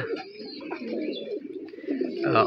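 Pigeon cooing in a home loft, soft low throaty calls repeating steadily and close by with no talk over them.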